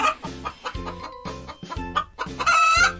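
A chicken clucks in a quick, steady run of short, close calls, rising at the end into a longer, louder squawk, with no talking.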